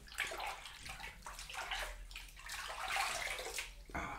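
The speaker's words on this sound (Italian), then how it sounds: "Senti il rumore dell'acqua." Water runs steadily from a tap during a shave, a continuous splashing and sloshing flow with brief dips and no talking.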